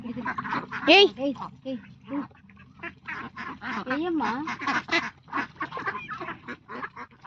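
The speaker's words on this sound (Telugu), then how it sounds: "ఫ్రెండ్స్ ఇవన్నీ మా బాతులే అని చెప్పు" Several farm ducks quack close by in short, repeated calls. A person talks over and between the calls throughout.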